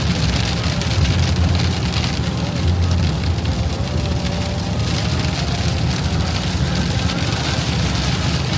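Rain falls steadily in a continuous, dense hiss that stays loud and unbroken throughout, with no voices over it.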